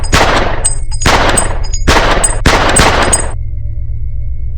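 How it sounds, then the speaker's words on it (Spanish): Four loud gunshot bursts, each a sharp broadband crack with a ringing, echoing tail, fired at irregular intervals about a second apart, followed by a fading metallic ring; no voices. "Le da 6 balazos."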